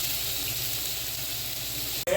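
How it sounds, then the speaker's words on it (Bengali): Sliced onions fry in ghee until brown, with a steady close hiss of sizzling that cuts off abruptly near the end. "এখানে কিন্তু আমরা এই পেঁয়াজগুলা ভেজে বাদামি করে উঠিয়ে রাখবো।"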